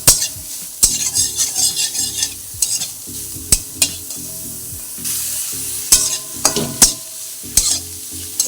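Flat beans and carrots fry in a pan with steady sizzling and repeated stirring, metal utensils scraping and clinking against the pan in irregular bursts, close by with no talk.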